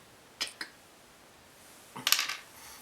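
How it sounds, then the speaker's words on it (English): A tiny Gerber zipper pull knife detached from its holder gives two quick light metallic clicks, then a brighter rattling clink a moment later, close and faint with no voices. "This is the Gerber zipper pull knife. And this comes off like this."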